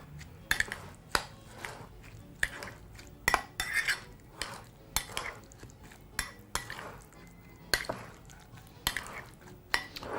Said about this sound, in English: And using a spoon, proceed to mix through.